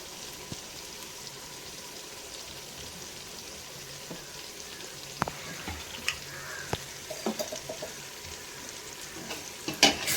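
Ginger and garlic are sautéed in a pan for mutton dum biryani, making a faint, steady sizzle with occasional soft scrapes and spoon taps that grow a little busier toward the end.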